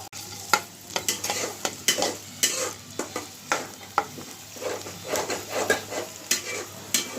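Onion and green chilies sizzle in hot oil in a pan, with steady loud frying and repeated scraping stirs of a utensil against the pan, close by and with no talking.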